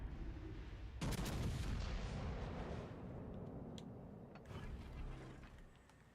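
The enemy ship Pomeran fires in the naval game World of Warships Legends. A heavy gun blast erupts about a second in and rumbles down into low battle noise, with a few fainter thumps later on.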